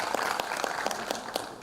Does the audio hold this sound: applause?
yes